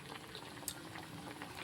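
Curry bubbles at a full boil in a pot, a soft, close, continuous simmering with small pops and one brief sharper blip, heard alone without talk.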